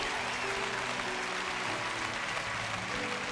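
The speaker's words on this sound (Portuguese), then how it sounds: "Dê ao Senhor uma grande oferta de palmas." Church congregation applauding together in a steady, dense wash of clapping that fills the whole moment, with faint voices and some tonal sound mixed underneath.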